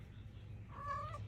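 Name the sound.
kittens meowing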